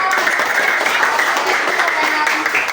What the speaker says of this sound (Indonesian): Tepuk tangan buat Elsa.